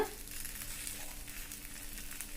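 Sweet kuzhi paniyaram batter sizzles steadily in the round hollows of a paniyaram pan, a soft, continuous frying hiss at close range with no voices.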